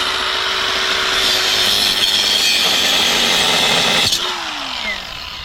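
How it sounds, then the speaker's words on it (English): A cutoff saw grinds through wire fence panel with a loud, harsh, sustained abrasive whine that suddenly stops and winds down in the final second. "So since I brought my cutoff saw back here,"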